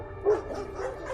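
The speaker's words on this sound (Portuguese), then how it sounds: "todos os cachorros começavam a latir." Dogs bark along a sloping residential street in the early hours, with a short burst of close, yappy barks and whimpery yips.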